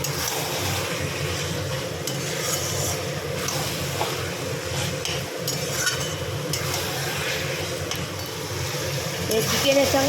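Chicken pieces frying and being stirred with spices in a pan for a Bengali chicken kosha curry, a steady close sizzle with scraping stirs throughout and a voice talking over it.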